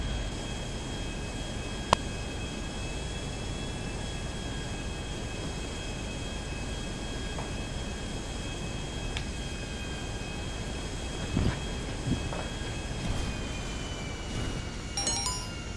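Steady, droning engine of an airplane in flight in Gran Turismo 5, a constant mid-loud whir with faint clicks and a few small bursts toward the end, no talking.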